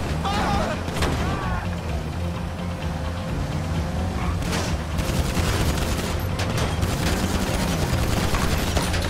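Sustained gunfire with booms and engine noise from a GTA 5 session, dense and loud throughout with no pauses.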